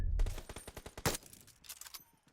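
Rapid gunfire in the battle royale game PUBG, a burst of loud close shots in quick succession followed by a few sparser bangs, with no speech over them.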